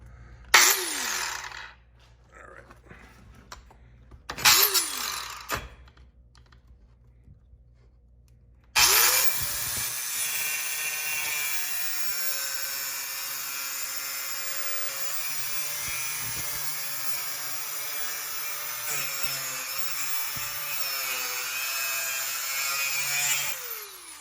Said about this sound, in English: So I'm using my Dremel little saw here.